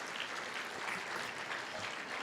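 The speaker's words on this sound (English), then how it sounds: "give a hand of applause for everyone who went out there and tried to raise money by exercise for our foundation" At a scleroderma foundation conference's opening keynote, a large audience applauds in a steady, dense wash of clapping that carries evenly throughout, moderately loud with no voices standing out.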